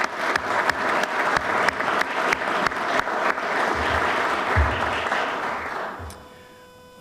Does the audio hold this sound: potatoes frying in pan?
no